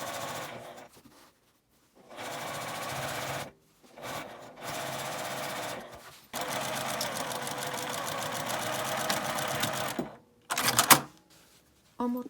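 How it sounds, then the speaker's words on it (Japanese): Sewing machine stitching a 1 cm seam on a tote bag, running in several bursts of rapid, even mechanical whirring separated by short pauses, close and moderately loud. "ポケットのある方は中表にして端から端まで1センチの縫い代で縫います。"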